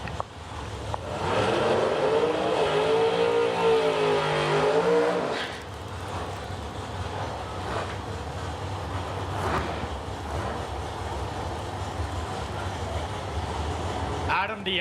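A 1967 Camaro and an 08 Mullis dragster launch off the line at the Oil City Classic drag race in Edmonton, with a loud engine roar rising and falling for about five seconds, then a steady crowd and track din.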